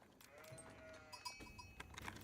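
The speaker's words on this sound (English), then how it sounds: "That's a good amount of sheep." Sheep bleat in a video game against a busy backdrop of game effects and chimes, a few short bleats scattered across the stretch at moderate loudness.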